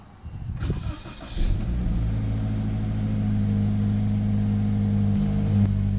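A 2017 Toyota 86 engine cranks over and fires, then settles into a steady, strong idle right up close, with no talking.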